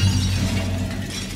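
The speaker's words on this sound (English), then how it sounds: "Break the mirror with it. That'd be a loud sound." A mirror smashes and glass shatters in the video game Little Nightmares, a brief dense crash with a low rumbling tail over a steady game soundscape.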